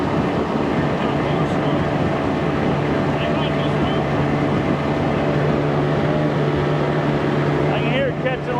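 A 1990 Johnson 25hp outboard motor roars steadily at wide open throttle, close and loud, its droning hum unbroken from start to finish.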